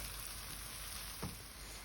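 Chopped onions sizzle and fry in olive oil, a steady close crackle with one brief stirring scrape partway through.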